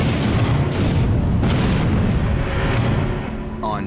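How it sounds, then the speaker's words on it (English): An IED detonating in the World War II video game Heroes of Hell's Highway, heard as dense, sustained roaring blast noise with a couple of heavier bursts, all loud and close. "a switch, like a pressure plate or tripwire that closes the circuit and triggers the IED"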